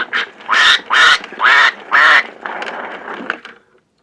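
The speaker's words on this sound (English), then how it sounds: "So there's the duck." A duck quacks loudly and close, four strong evenly spaced quacks followed by softer, quicker chatter that fades out.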